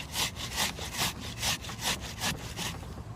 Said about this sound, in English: you're going to grate off about half of this onion here